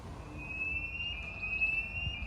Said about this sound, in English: That noise is this bridge getting ready to open